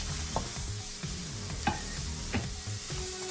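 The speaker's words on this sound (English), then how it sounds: "I put the pan on, it's very hot. I start with the pepper." Peppers sizzle steadily in a very hot dry pan with no oil, a constant close frying hiss broken by a few brief stirring scrapes.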